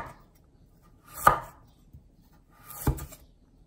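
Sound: chopping carrots thinly with a knife

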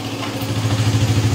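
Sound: Suzuki motorcycle engine idling after keyless unlock

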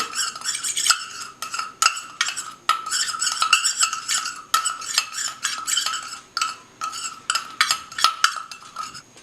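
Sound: mixing powdered sugar paste for upper lip hair removal

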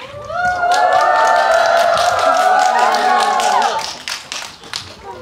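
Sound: audience applause and cheering as actor enters

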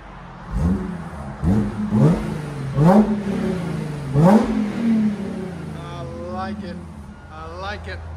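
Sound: V6 engine car exhaust revving

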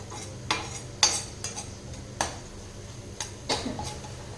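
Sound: capsicum masala being sautéed on low flame

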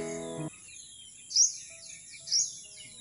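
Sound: birds chirping at a quiet railway station in the morning

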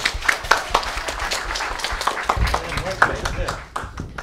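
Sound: audience applause at event

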